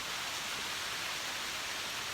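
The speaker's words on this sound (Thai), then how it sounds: "ได้ยินเสียงฝน" Rain falls steadily outdoors among dense trees in rural northeastern Thailand as an even, hissing wash of noise that stays constant and moderately soft throughout, with no voices.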